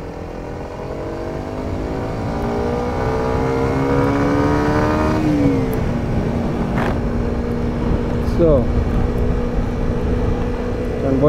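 A 2020 Kawasaki Ninja 125 motorcycle engine revs up through the gears, pitch climbing, dropping at each shift, then rising again, loud and close.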